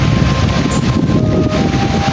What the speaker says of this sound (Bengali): ওয়েদার তুমুল একটি ঝড় ছুটে চলেছে